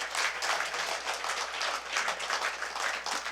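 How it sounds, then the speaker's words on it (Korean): An audience applauds a guest lecturer at a university lecture, with dense, steady clapping from many hands that holds evenly throughout and has no talk over it. "김홍신 강사님께 박수 한번 보내주십시오"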